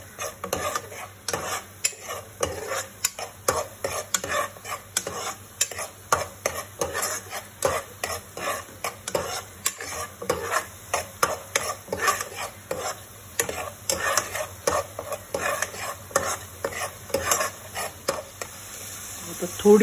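Onion, garlic and green paste sauté in a pan for crab curry, with a spoon scraping and stirring in quick repeated strokes over a soft sizzle, close and busy throughout.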